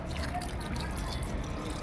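Liquid compost water dribbles and drips steadily onto potted plants, a soft close pour with a faint low rumble underneath.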